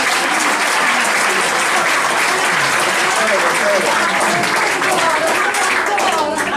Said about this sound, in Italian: merita un altro applauso Antonietta Puglia